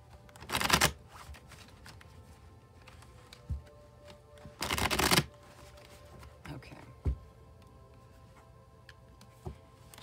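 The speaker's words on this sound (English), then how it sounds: "I'll shuffle till I feel like the deck is ready" Two short bursts of riffling tarot cards, each under a second, separated by quiet pauses with a few soft taps and clicks.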